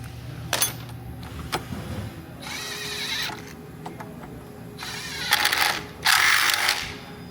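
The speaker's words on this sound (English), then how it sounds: "I'm not gonna tighten these bolts up all the way because I want to get the other side on" Ratchet wrench clicking as it tightens engine mount bolts on a 2006-or-later Harley-Davidson Dyna, with several bursts of rapid pawl clicks between pauses and lighter metal handling sounds, close up with no talk.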